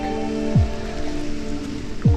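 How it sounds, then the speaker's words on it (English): Late fall rain falling on leaves, a steady soft patter that runs throughout at moderate loudness, with a low tonal hum in the background and two brief swooping sounds. "This is the second rain in 2 months"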